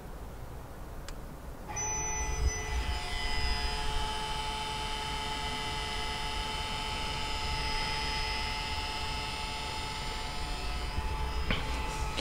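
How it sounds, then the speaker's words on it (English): An electromechanical rear brake caliper motor on an Audi S3 winds its piston in with a steady whining hum that sets in after a brief pause and holds for about ten seconds. One short spoken word comes at the start. "you should hear the piston wind in"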